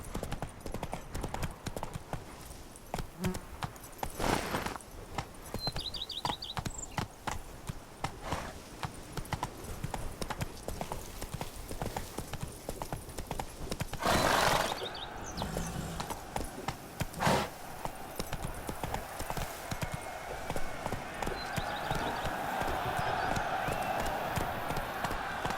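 Roach the horse gallops in The Witcher 3, hooves clip-clopping in a quick, steady rhythm over a continuous outdoor game ambience, with brief louder swells along the way.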